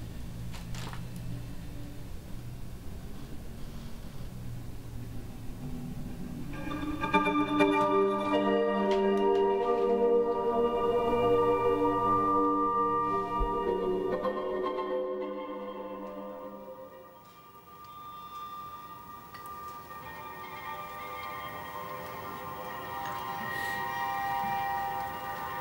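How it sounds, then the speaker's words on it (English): Slow, smeared orchestral scherzo time-stretched to about four minutes, with stretched, droning tones that swell and blur together, fading into a dim murky texture before rising again. "I time stretched that on my computer to being about 4 minutes long."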